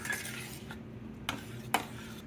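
Milk being stirred into a pot on the stove during cooking of St. Johns River American shad, with soft swishing and a few faint clinks of a utensil against the pot, quiet and close.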